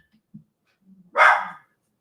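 A single sharp dog bark, loud and close, follows a couple of faint thumps in an otherwise quiet room.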